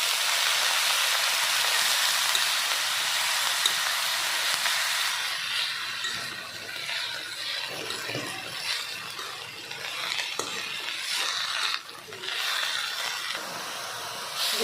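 Leafy greens sizzle and hiss steadily in a hot pan with garlic, green chilies, salt and turmeric, a loud broadband fry that softens slightly midway, with stirring clatter, and no talk.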